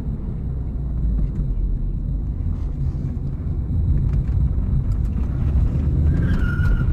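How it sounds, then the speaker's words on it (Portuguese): A 2011 Chevrolet Astra 2.0 hatchback engine rumbles steadily from inside the cabin, a continuous low drone that builds slightly toward the end, with faint wind noise and no speech. "só pra dar uma aceleradinha, né?"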